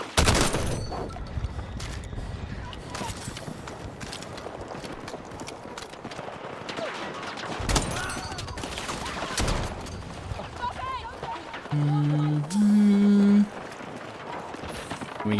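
Gunfire crackles in the first-person shooter Battlefield 6, scattered shots and bursts over busy battlefield noise with a few louder mechanical tones, as players talk over it.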